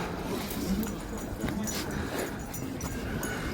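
A dog whimpers softly in short, high yips during an outdoor walk in Addington Hills, the whines faint and intermittent against steady wind and ambient noise.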